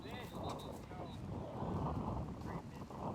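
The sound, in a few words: wind picking up on a disc golf course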